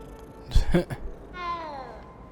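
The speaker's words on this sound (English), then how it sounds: "Hey, a cat." A cat meows in the video game Hogwarts Legacy, a short rising-and-falling meow heard near and clear after some brief game sounds, with voices elsewhere around it.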